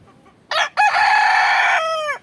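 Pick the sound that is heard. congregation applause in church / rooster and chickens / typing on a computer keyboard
rooster and chickens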